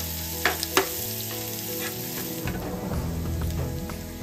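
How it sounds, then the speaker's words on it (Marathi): Finely chopped green chilli and garlic fry in butter, giving a steady close sizzle with a few sharp clinks from stirring early on and a broader crackle that swells in the second half. "बारीक चिरलेली मिरची व्यवस्थित असं फ्राय करून घेऊयात आपण, लसूण आणि मिरचीचा कच्चा वास जाईपर्यंत"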